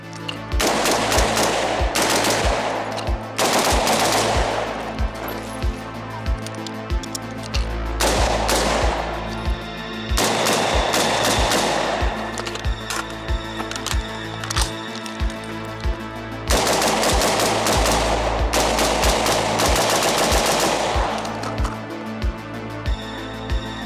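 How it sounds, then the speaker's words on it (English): A Daewoo K2 rifle fires in loud, close bursts of rapid automatic fire. Several long strings are separated by short pauses, with sharp repeated cracks throughout. "Well, I think I've had enough shooting for a couple days."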